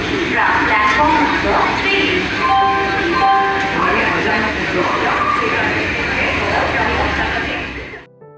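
A train standing at a railway platform in Kharagpur, a steady rumbling station din with tonal mechanical whines and overlapping voices of people talking nearby throughout.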